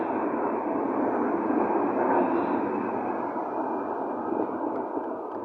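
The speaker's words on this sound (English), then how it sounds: "So it looks like a tram here." A tram runs along the main line through Brandenburg's town center, a steady broadband rumble and rolling hum that holds evenly throughout, with no voices.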